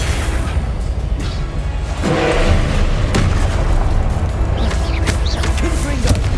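Incendio fire spells are cast in Hogwarts Legacy, each one a whooshing burst of flame. Several come in quick succession over a dense, booming combat din, loud and close.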